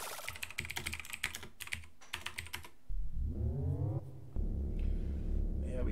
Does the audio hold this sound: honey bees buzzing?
no